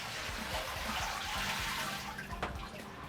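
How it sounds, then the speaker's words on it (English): Water draining out of the basins of a VH800 FL vapor honing machine after overflowing, a steady close rushing wash with low gurgling pulses running throughout, plus a brief clack near the end. "So it's gonna allow all that water to drain out."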